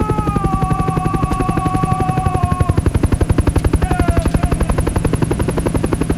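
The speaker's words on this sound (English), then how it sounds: "A helicopter!" A helicopter passes close overhead over jungle, its rotor thumping in a loud, fast, steady beat with a high whine on top for about six seconds.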